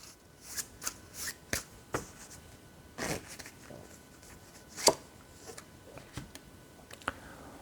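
Tarot cards being shuffled by hand in a quiet room, a series of crisp riffling bursts and flicks spaced unevenly, close and clear, with no talking.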